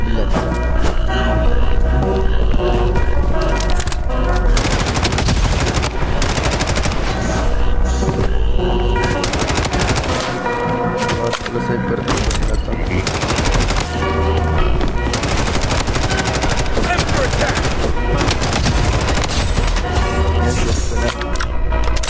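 Rapid bursts of automatic gunfire and shots in a video game fill the whole stretch, loud and nearly continuous, with brief gaps between volleys.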